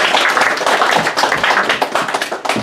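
Live theater audience applause, dense steady clapping from many hands filling the room, loud and sustained without pause.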